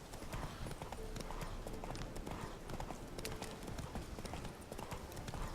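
Roach, the horse in The Witcher 3, clip-clops along in a steady rapid hoof rhythm, dense and continuous at low volume, with faint talk mixed underneath.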